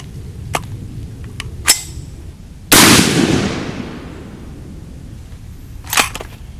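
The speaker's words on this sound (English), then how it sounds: "First shot ever with the 20 GT" Single gunshot from a 20 GT AI rifle, a loud sharp blast with a long decaying tail, preceded and followed by faint clicks and handling noises.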